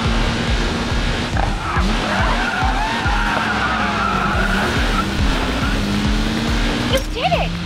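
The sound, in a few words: race cars skidding in video game Racing Master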